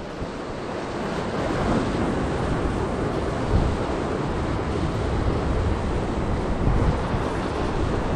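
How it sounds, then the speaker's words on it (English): Steady, blustery wind roaring across the microphone over a constant wash of surf on a rocky coast at Point Plomer, Australia, loud and unbroken throughout with no voices. "Let it sink down a little bit windy today"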